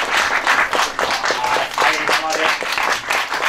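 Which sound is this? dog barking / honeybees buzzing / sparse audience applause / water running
sparse audience applause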